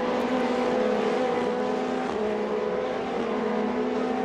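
Formula Renault Eurocup race cars at the Paul Ricard circuit, a loud sustained high-revving engine drone with shifting pitch as the pack passes, continuous and near.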